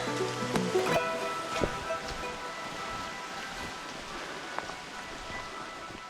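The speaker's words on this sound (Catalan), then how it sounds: "Ara està apretant la pluja ja." Heavy rain pours down on a muddy trail on Ometepe, a dense steady hiss filling the background with a few sharper knocks and taps early on, no voices.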